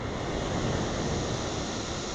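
Small, rideable waves break and wash steadily onto a quiet, clear-water beach, a continuous close surf roar mixed with light wind noise on the microphone.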